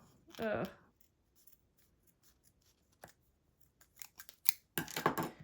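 A brief voice at the start, then scattered snips of scissors cutting paper, building into a quick cluster of crisp cuts near the end.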